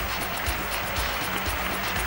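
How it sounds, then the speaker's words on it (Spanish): Dense, steady applause from an arena crowd at a 1989 ACB basketball slam dunk contest in Logroño, continuous rapid clapping heard from a distance for the whole stretch. "¡Fuerte el aplauso para todos!"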